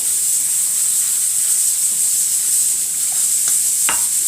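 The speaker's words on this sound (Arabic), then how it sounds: "غادي نضيفو تقريبا واحد الكاس ديال العنبه ديال الماء باش نحلو هاد الطماطم هادي" Loud, steady steam hiss and bubbling sizzle rise as water is added to tomatoes cooking in a hot pan, with a couple of faint clicks near the end and no voices.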